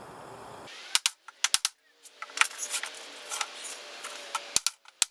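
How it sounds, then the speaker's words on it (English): Nails hammered to bang the feet into a homemade plastic bending brake, heard as a series of sharp, separate metallic knocks at an uneven pace, loud and close, with some softer handling noise between the strikes. "you have to bang the feet in"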